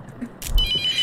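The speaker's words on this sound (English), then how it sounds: "the phone is ringing constantly" A telephone rings in The Mortuary Assistant horror video game: a short electronic ring tone, clear and fairly close, with a brief thud as it starts.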